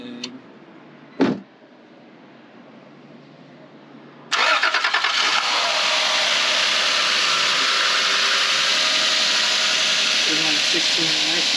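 A twin-turbocharged 2JZ-GTE engine in a 1994 Toyota Supra RZ cranks and catches, then settles into a steady, loud idle that runs on without a break; a short thump comes just before the start.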